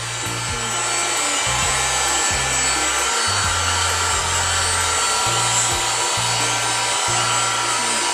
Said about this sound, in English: This heat gun is moving the colors around.